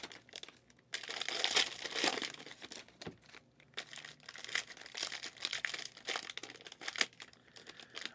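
Panini Prizm basketball card packs torn open by hand, foil wrappers crinkling and ripping in close, loud bursts with brief pauses between them.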